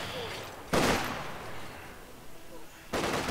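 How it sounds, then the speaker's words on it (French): Machine gun fire from a World War II battle in the video game Company of Heroes 2 comes in two loud, sharp bursts, one near the start and one at the end, over a steady rumbling battlefield background. "je contourne cette mitrailleuse."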